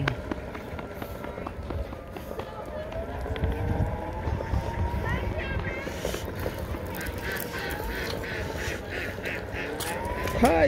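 A crowd of ducks on a park lake in Lancaster, California, quacks and calls in overlapping bursts, with soft voices and outdoor bustle underneath.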